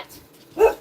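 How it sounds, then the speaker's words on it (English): A single short dog bark sounds indoors at close range, preceded by near silence, with a faint whimpering tone before it. "I want to see what she's barking about."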